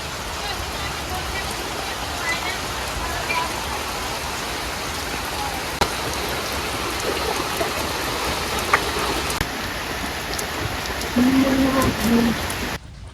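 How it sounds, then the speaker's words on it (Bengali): Steady rain falls on surfaces with a constant, even patter, and a voice speaks briefly near the end. "খুব সুন্দর বৃষ্টি হইতেছে"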